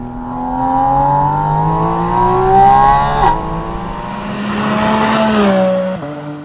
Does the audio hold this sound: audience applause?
no